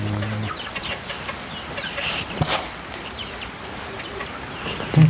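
Chickens cluck in short scattered calls over a noisy outdoor background, with a slightly louder burst near the end.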